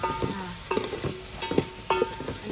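Hot oil crackles and sizzles in a pan as small shrimp fry close by, with a few louder bursts of spattering; no talking.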